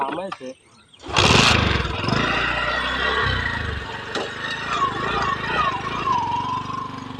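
A motor vehicle engine starts with a loud burst and keeps running with a steady, rough drone while riding, after a short stretch of speech at the start.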